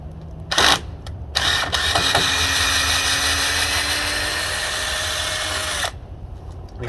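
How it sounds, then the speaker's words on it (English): A cordless screwdriver backs screws out of a wooden crate, its motor whining in a steady rising tone for several seconds after a couple of short bursts, loud and close, then stopping. "using a screwdriver, as I have here, to take apart this crate"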